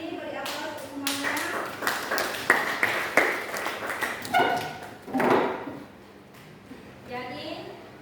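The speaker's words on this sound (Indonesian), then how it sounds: "beri aplaus untuk semuanya" A group claps along as a session wraps up, with irregular hand claps and taps scattered across the clip and a denser burst near the middle, mixed with speech and room noise.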